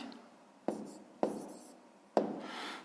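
Pen or marker strokes on paper while working a 5th-grade math exercise, with three sharp taps of the pen landing on the page and soft scratchy writing between them, close and quiet with no talk.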